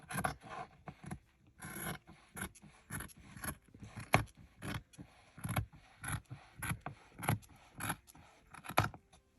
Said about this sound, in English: I'm going to go ahead and just cut this.